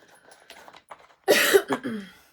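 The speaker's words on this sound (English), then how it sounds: "Just clear my throat." After quiet rustling, a single loud, rough throat-clearing cough bursts out close by, followed by a short trailing rasp.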